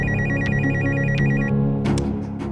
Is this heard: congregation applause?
no